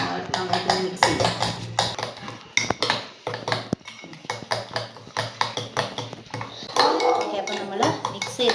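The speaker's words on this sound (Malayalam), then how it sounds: "നന്നായിട്ടൊന്ന് മിക്സ് ചെയ്യാം." Clinking and scraping of a utensil against a bowl as a homemade face pack is mixed, in irregular bursts of knocks and taps. Someone speaks in between.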